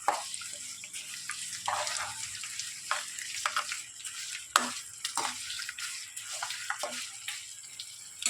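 Garlic cloves sizzle in hot oil as a tempering for a village-style gongura (sorrel leaf) pickle, a faint hissing fry broken by scattered crackles and pops, with no voices.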